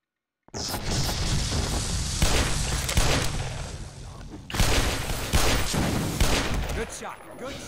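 Sustained gunfire in the video game Black Mesa, rapid bursts and heavy shots layered with booms, loud and continuous after a short silent start.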